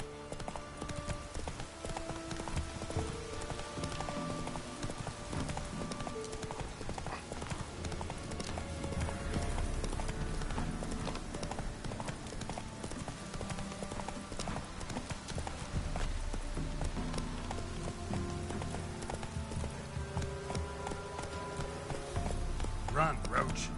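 Roach the horse from The Witcher 3 gallops with a steady, continuous clip-clop of hooves under layered game music and ambience, with voices heard intermittently throughout.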